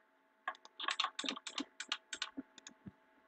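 Rapid bursts of mouse clicking during a Mineplex Master Builders game, fast irregular clicks close and fairly quiet, clustered in quick runs with brief gaps, no talk over them.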